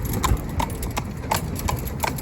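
Hooves of a single horse driven in harness, pulling a carriage through town, clip-clop in a steady rhythmic series close by against a constant background hum.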